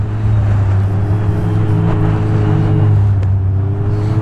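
A 250 HP Ski-Doo Renegade X-RS snowmobile races along, its engine holding a loud, steady droning roar up close for several seconds with no voices.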